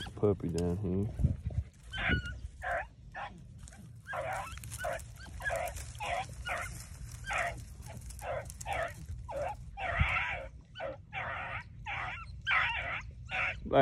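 Beagles chase a swamp rabbit through briars outdoors, giving repeated yelping bays at a moderate distance in an irregular rhythm, with someone speaking near the start.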